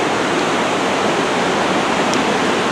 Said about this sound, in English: This is just the Ohanapecosh River flowing down through all these canyons.